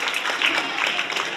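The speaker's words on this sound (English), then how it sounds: "Give them a big round of applause again" Audience at a Scór na nÓg county quiz final in Cork clapping steadily, a continuous broadband patter of many hands at moderate level with no break.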